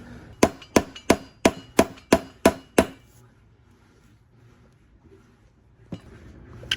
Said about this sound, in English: use a very small flathead, put it on the side of the bushing and just hammer it